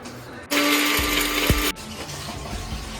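A mixer grinder whirs through roasted black pepper and cumin in a short, loud burst of about a second, starting and stopping abruptly amid quieter kitchen background noise.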